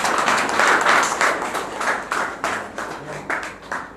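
Applause at a political parties and civil organizations alliance gathering, a steady patter of clapping hands that swells and ebbs in several waves over four seconds, fairly close and moderately loud.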